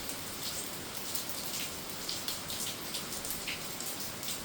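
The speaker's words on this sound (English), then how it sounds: "Rain, rain, rain." Heavy rain pours down during a windy storm in Westmoreland, Jamaica: a dense, steady hiss of drops on surfaces, continuous and fairly close, with no voices.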